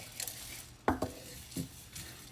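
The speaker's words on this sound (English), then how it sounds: "Just gently, slowly dry roast it on on medium heat, low-medium heat" Spices dry roasting in a pan over low to medium heat, with a utensil scraping and clinking against the metal in a few short strokes and a quiet background hiss.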